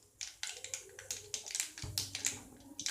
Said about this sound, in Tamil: கடுகு வெடிச்சிடுச்சு.